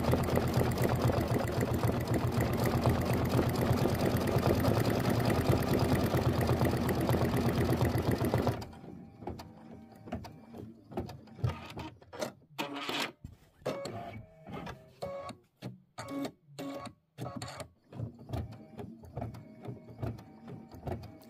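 An embroidery machine stitches a bow placement line on a Kimberbell vase quilt block, a steady loud whirring hum that stops, followed by quieter intermittent clicks, taps and fabric handling.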